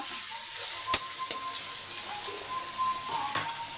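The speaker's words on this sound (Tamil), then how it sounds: "தக்காளி கொஞ்சம் வதங்கணும்" Tomatoes sauté in a pan with a soft, steady sizzle, broken by a few sharp utensil clicks against the pan; no voices.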